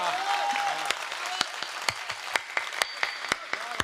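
Applause breaks out from an audience at a Hindi comedy poetry show (kavi sammelan), a brief burst of clapping that quickly thins into scattered, distinct claps fading toward the end.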